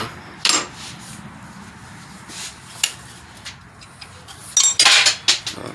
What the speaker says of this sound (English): Drop my socket.